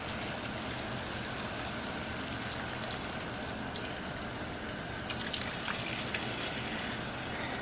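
Three cups of beef broth are poured for a cottage pie, making a soft, continuous liquid stream with faint splashing close by.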